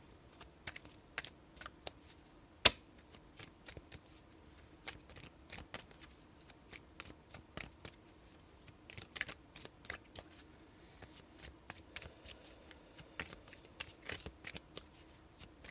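Tarot cards shuffled by hand for a reading, close and alone: a long run of quick, crisp riffles and taps with one sharper snap near the start and denser bursts toward the end.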